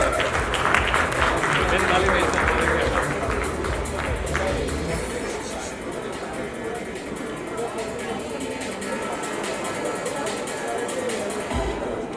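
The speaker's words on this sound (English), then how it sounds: "One more big round of applause for all our outstanding women on stage." A large audience applauds with dense, sustained clapping over a bright, noisy crowd backdrop. The applause fades only slightly across the stretch, with no clear talking on top.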